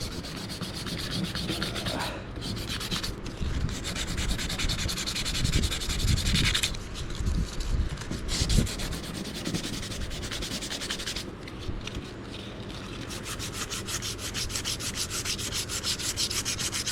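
Steady rubbing of an eraser against a hand-carved wooden wand, a continuous close scratchy friction running the whole time with slight swells in intensity and no voices.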